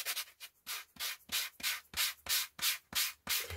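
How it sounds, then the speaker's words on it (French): A small workpiece is hand-sanded with a sanding block, making about ten rhythmic back-and-forth rasping strokes, close and steady with short pauses between them and no talk. "Je vais le poncer un peu."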